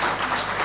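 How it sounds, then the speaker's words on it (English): Audience applauding the governor of Bauchi State at a professionals' forum symposium, a steady dense wash of clapping that fills the whole moment without a break. "Can we give a rousing round of applause to His Excellency,"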